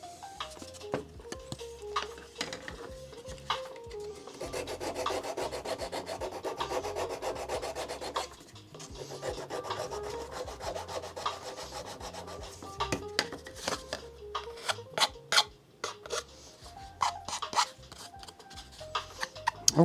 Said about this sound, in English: let me get this sanded down